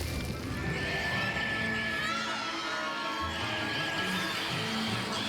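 Mandrakes pulled from pots in a Hogwarts Legacy herbology class shriek with shrill, wavering screams over a busy classroom din, continuous and fairly loud throughout.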